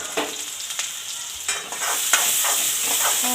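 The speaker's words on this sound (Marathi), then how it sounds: "कढईमध्ये छान तेल मिरं जिरे टाकलेले आहे कांदा मिरची छान होती दिलेली आहे" Onion and green chili frying with cumin and pepper in oil in a kadhai, a steady close sizzle broken by repeated scraping stirs of a spoon, with no talk.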